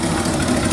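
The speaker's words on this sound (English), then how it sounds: "listen to that thing purr" Car engine with a freshly rebuilt Motorcraft 2100 carburetor idling after warm-up, a steady close low rumble with even vibration and no voices.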